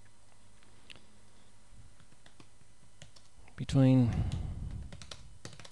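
Faint computer keyboard typing clicks sit under a person talking, followed by a sudden loud, rough burst of sound partway through.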